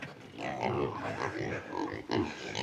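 Pigs on a small farm grunt and oink continuously, a dense, close chorus of low snorts and squeals with no talking.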